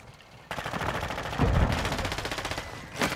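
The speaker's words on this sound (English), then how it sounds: "Sentry gun deployed!" A video game sentry gun opens up with a loud, rapid stream of automatic fire, a steady machine-gun rattle that swells midway and keeps hammering for several seconds.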